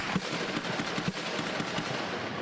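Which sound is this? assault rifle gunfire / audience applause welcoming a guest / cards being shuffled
assault rifle gunfire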